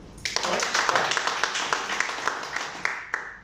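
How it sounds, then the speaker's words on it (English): A team claps together for a competitor in a competition setting, a steady run of close, sharp hand claps lasting the whole stretch with brief louder accents. "the team will clap for you"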